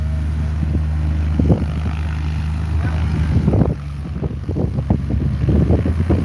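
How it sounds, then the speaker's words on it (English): Cessna 180 light aircraft at a grass airstrip, its engine a steady low drone throughout with wind buffeting the microphone and louder gusty bursts toward the end. "And Cessna 180 is going to go at it again."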